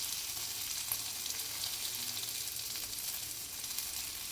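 Steady crackling sizzle of turkey berries frying in a pan, a continuous close hiss with small pops and occasional stirring.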